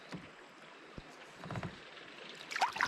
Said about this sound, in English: now I think it's about time I start my kayak trip